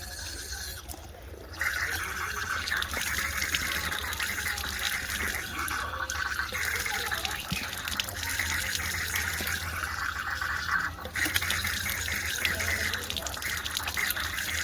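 Water runs steadily from a tap while someone washes their face at home, a continuous splashing gush that starts after a quiet moment and carries on with small interruptions.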